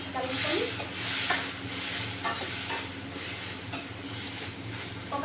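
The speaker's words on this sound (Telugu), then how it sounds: "టమాటా అనేది ఆయిల్లో మగ్గాలి" Tomatoes being stirred and softening in hot oil for pasta, giving a steady sizzle with scraping stir strokes throughout, close and continuous, with no talking.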